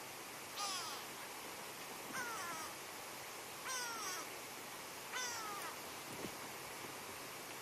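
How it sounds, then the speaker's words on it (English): Grey go-away birds flying over an early-morning safari in the Sabi Sand reserve, giving four harsh nasal descending calls spaced a second or so apart, moderately loud against a quiet bush backdrop. "you hear the grey go away birds complaining about something as they fly over us."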